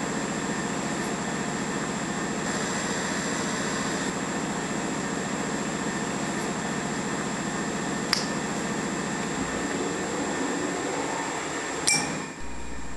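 A milling machine spindle turning a 1-inch end mill set for aluminum, giving a steady mechanical hum and whine that runs throughout, with a couple of sharp metallic clicks and a shift in tone near the end.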